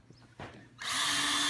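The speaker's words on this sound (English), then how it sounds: "if you also set the clutch real light on your drill driver, you hear that ratchet, it doesn't strip the screws out" A drill driver, clutch set light, drives a screw into a plastic Peg Perego or Power Wheels toy wheel during a tire and traction upgrade, a soft tap and then a loud, steady buzzing whir starting abruptly up close.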